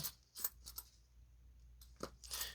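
Coins clink and jingle in several quick bursts with short gaps between, bright metallic taps close by and fairly quiet, as a handful of old coins are handled and dropped.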